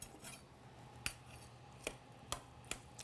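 A plate and cutlery being handled while dinner is set out, heard as a few sharp, sparse clinks and taps spaced about a second apart over a quiet room background.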